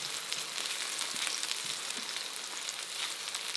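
Tomatoes cooking with bittermelon in a pan for a Filipino dish, giving a soft steady hiss of frying with faint occasional crackles, quiet and unbroken.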